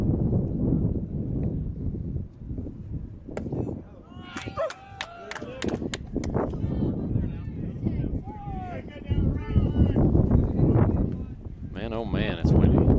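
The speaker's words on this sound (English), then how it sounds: "it's windy" Gusty wind buffets the microphone at an outdoor 15U youth baseball game, a steady low rumble with stronger bursts, heard alongside people talking.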